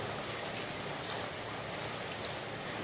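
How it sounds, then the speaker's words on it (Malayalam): Water is poured into a cooking pot holding long-cut raw nendran plantain with curry leaves, turmeric and chilli powder for a buttermilk curry. A steady, soft, continuous splashing gush lasts under three seconds, with no talking. "ഇനി ഇത് വേവാൻ ആവശ്യമായ വെള്ളം"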